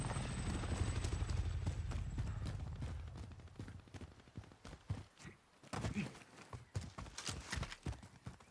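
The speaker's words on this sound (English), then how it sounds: "Supply choppers inbound." Supply helicopters arriving in the PS5 battle royale game Call of Duty Warzone: a low, faint rotor rumble with a rhythmic chop that thins into scattered thumps.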